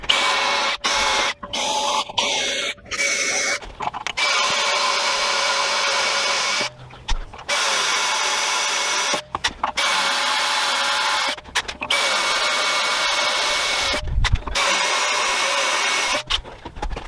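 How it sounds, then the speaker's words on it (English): Power drill boring holes in the metal sled of a Nashorn Pak 43/41 gun cradle, a loud sustained whine running in long bursts broken by several short pauses, close by with no talk. "And then I try to drill from the inside."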